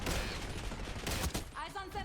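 Weapon fire in a first-person shooter video game from the Sector Pizza Box, loud overlapping bursts of shots with whooshing, whistling projectile effects trailing off near the end.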